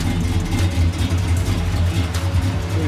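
A Chevy 4.8 V8 with upgraded heads and Flowmaster exhaust revs loudly up close, giving a deep, throaty burble that swells and dips over a few seconds.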